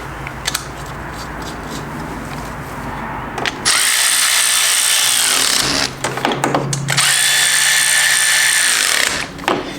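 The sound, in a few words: impact wrench driving acorn nuts on Honda Fourtrax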